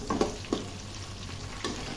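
Potatoes frying with onions and green chillies in a pan, a soft steady sizzle broken by a few stirring scrapes and clacks, close and alone with no talk.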